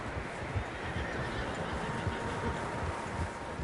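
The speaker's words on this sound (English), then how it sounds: "Horses, quite a few of them." Several horses neigh and whinny in the Red Dead Redemption 2 video game, a faint, noisy outdoor scene with soft hoof-like thumps underneath and no talking.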